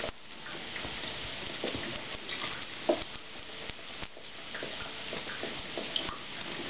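Bacon frying in a pan gives a steady, close crackling sizzle with scattered pops and ticks, continuous throughout, with no voices.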